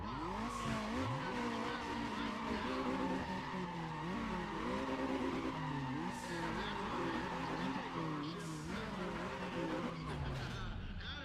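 Honda cars drag race down a quarter mile in the video game Need for Speed ProStreet, with engines rising and shifting through gears over screeching tires, loud and continuous throughout.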